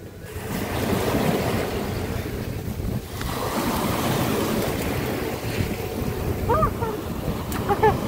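Sea waves wash onto a beach in Zeeland, a steady rushing surf roar with wind buffeting the microphone and faint voices nearby.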